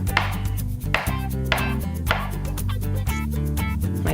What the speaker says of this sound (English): I'm going to very quickly cut up my avocado